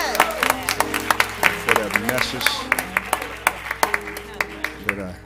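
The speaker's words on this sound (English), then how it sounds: "Let us give Reverend Ryan Dixon another round of applause" A church congregation applauds with brisk, uneven clapping that spreads through the room, while a speaker's amplified voice talks over it.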